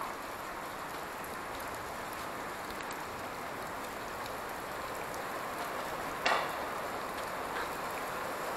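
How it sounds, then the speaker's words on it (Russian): Heavy summer rain pours down in Petrozavodsk as a dense, unbroken hiss, with one brief sharp tap partway through and no voices. "Вот это да! Вот это дождина!"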